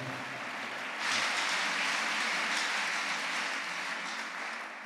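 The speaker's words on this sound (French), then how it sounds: "Si tu aimes le retour de Jésus et la nouvelle Jérusalem, acclame le Seigneur" A church congregation applauds and acclaims the Lord during a morning prayer service, a steady wash of clapping and cheering that swells after the first second and holds at a fairly loud level to the end.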